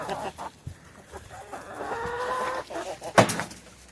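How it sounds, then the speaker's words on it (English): A backyard flock of chickens with an old rooster clucks softly and steadily nearby, broken by one sharp louder squawk near the end. "He's our oldest rooster."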